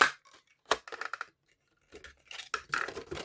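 Scissors cutting a 2-inch paper strip for a stamped card, heard as a few short close snips and rustling paper strokes in quiet bursts with pauses between.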